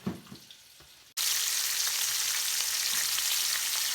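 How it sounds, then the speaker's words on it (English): Chicken pieces sizzle loudly in hot grease for a Cajun fricassee, a sudden burst of steady frying after a short quieter stretch with faint kitchen clatter. "Just kind of keep the meat fried up just a little bit, just let the skin kind of starts getting crispy"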